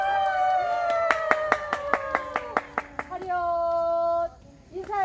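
Children clapping after a small ecological play at a community library, a run of about a dozen sharp, evenly spaced claps under a sustained sung or called voice, then voices carrying on.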